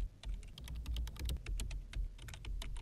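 Rapid typing on a computer keyboard while entering a spreadsheet formula, with close, crisp key clicks in an uneven run and no talking.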